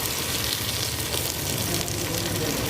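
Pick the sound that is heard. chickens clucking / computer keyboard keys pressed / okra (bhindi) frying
okra (bhindi) frying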